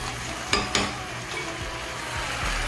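Chicken adobo being stirred in a pan, with two sharp utensil scrapes early on over a steady, close sizzle that continues throughout.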